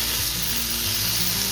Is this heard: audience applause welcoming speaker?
no